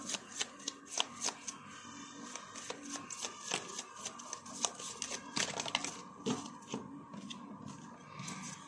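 Tarot cards are shuffled close by, a run of crisp riffling and tapping bursts with soft slaps between them, no voices.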